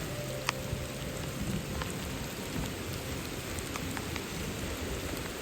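Steady afternoon rain falls in the mountains of Cameroon, a dense even hiss of drops on surfaces with a few sharper taps, continuous throughout with no voices.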